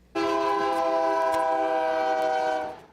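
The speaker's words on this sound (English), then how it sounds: "When trains go through Eureka, traffic stops" A freight or passenger train passing through a small-town crossing in Eureka, its horn blaring loud and close in a steady sustained chord for nearly three seconds alongside rumbling rail noise.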